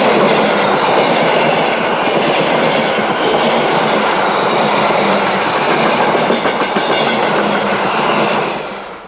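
A restored Orient Express train runs along the rails with a loud, continuous rumble and a dense, rapid clickety-clack of wheels over track joints. The sound stays close and steady throughout, easing slightly at the very end.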